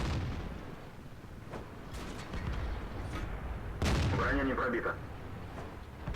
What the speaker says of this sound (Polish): Jak widać, cztery strzały w magazynku, ale tylko jeden z penetracją.